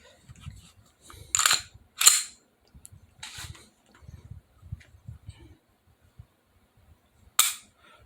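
SD40VE pistol with an upgraded trigger dry-fired, giving a few sharp, close metallic clicks spread across several seconds amid quiet handling noise and faint low rumbles.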